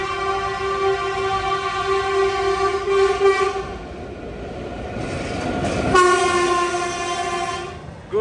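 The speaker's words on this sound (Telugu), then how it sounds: "అటు సైడ్ ట్రాక్లో ట్రైన్ వస్తుంది" A goods train passes on the adjacent track, its loud horn blaring in a long sustained blast and then sounding again over a steady rolling rumble of wagons nearby.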